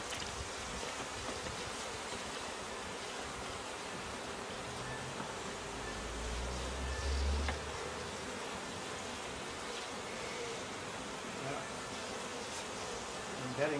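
Honeybees swarm around an open hive, filling the air with a dense, continuous buzzing drone, close and steady, with a deeper hum swelling briefly midway as bees pass near.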